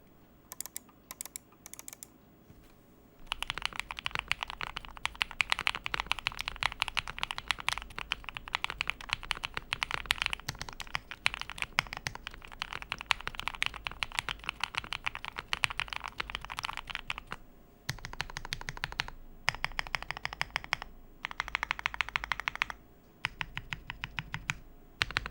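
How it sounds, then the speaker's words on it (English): Rapid, continuous clacking of a gasket-mounted mechanical keyboard with KTT Kang White switches and a tape mod, with dense bursts of keystrokes and short pauses, close and crisp. "we can move on to the typing sound test."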